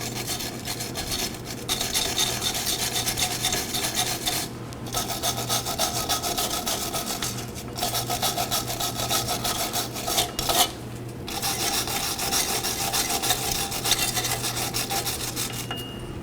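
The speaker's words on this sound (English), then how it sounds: "I'm going to go ahead and clean all the mating surfaces." Brake mating surfaces on a 2013-2019 Nissan Sentra are scrubbed clean, giving a steady, close rasping and rubbing that runs almost continuously, broken by a few short pauses, with no talking.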